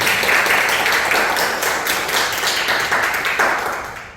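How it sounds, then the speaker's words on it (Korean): Audience clapping warmly for two young writers at a literary concert, a dense, steady wash of applause that holds strong throughout and slowly tapers near the end, with no talk over it. "그 용기를 낸 우리 두 젊은 작가, 청년 작가에게 큰 박수로 다시 한번 박수드립니다."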